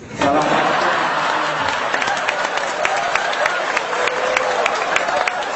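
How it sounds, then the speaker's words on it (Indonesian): Audience applause at an Indonesian religious gathering with a habib addressing Maiyah students, a dense steady clapping wash sustained throughout with scattered louder claps, fairly close and alone. "terima kasih, tepuk tangan"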